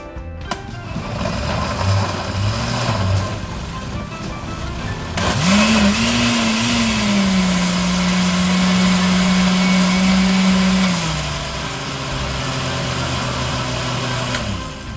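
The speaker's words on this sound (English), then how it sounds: "And then we blend that up." A blender whirs loudly as it purees cilantro with other picadillo ingredients, the motor pitch rising and settling into a steady drone for several seconds before easing to a lower hum near the end.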